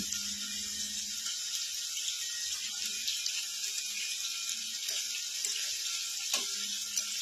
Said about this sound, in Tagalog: pabayaan lang muna natin yung ating chicken fillet. Habang piniprito naman natin yung sahog natin para din sa ginisang munggo sprout